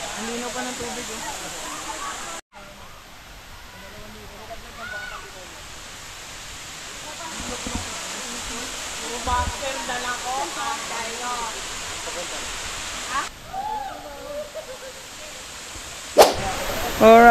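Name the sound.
Daranac Falls waterfall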